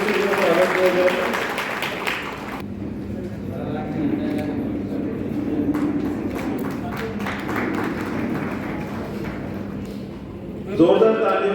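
Applause from a crowd at a farmers' fair greets women receiving cheques, scattered clapping running under a speaker's amplified voice, with a fresh burst of claps near the end.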